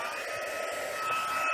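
Heat embossing tool blowing hot air, a steady, fairly loud whooshing blower hum with a high whine, continuous and alone throughout.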